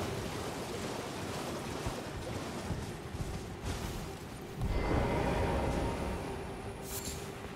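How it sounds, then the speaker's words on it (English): Waterfall in the video game Elden Ring, a steady broadband rush of falling water that swells louder partway through, with no voices. "Waterfall."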